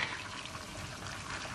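A ladle of water is poured into a pan of spaghetti with garlic, oil and chili, giving a steady, continuous splashing rush throughout, close and moderately loud with no voices.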